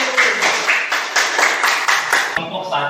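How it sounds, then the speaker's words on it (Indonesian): Classroom audience claps for a group of students after their practice of a prayer procedure: a quick, even run of hand claps, fairly close, with a voice talking over it. "kita tepuk tangan untuk kelompok"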